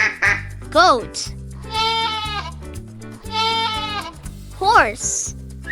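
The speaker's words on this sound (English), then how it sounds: "Goat." Two wavering goat bleats, one early and one near the end, over cheerful children's background music with a sung melody.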